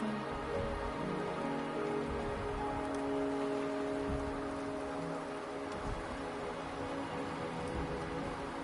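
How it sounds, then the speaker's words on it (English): Steady rain pours down on surfaces in a video game, a dense continuous patter with faint low rumbles and no talking over it. "The rain is subsiding,"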